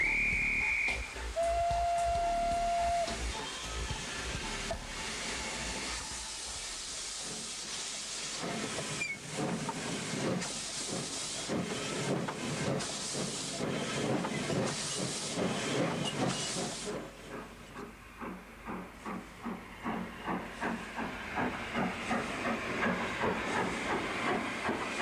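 A steam locomotive on the Keighley & Worth Valley Railway sounds a brief whistle, then hisses loudly as it sets off from Keighley, and its exhaust beats grow steady and rhythmic as it pulls away, heard close from the footplate.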